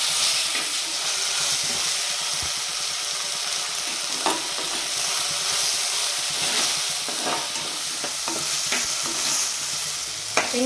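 Tomato masala with onion, ginger and garlic frying and being stirred in a pan, a dense steady sizzle with scattered spatula scrapes and pops, close and loud.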